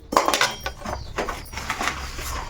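Urad dal is tipped into a pan of roasting chana dal, making a close, brief rattling clatter of dry lentils against the metal pan that settles into a lighter rustle.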